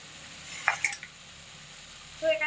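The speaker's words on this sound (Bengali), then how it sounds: "এবার আমি এই অবস্থাতে ভেজে রাখা আলু আর ফুলকপিগুলোকে দিয়ে দেব।" Fried potatoes and cauliflower go into sizzling masala and oil over medium heat, a soft hiss broken by a couple of brief clattering drops and a scrape near the end.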